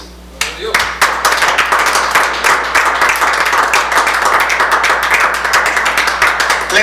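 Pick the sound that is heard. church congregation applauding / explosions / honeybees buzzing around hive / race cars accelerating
church congregation applauding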